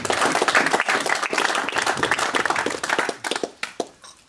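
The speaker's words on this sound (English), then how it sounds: "how about a round of applause for District Governor" Audience at a Rotary district conference visit applauding the District Governor, dense crowd clapping at full strength that thins into scattered individual claps and fades out near the end.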